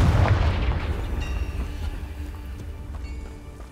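In the video game Hogwarts Legacy, the Confringo fire spell sets off a loud booming explosion up front, its deep rumble fading away over a few seconds.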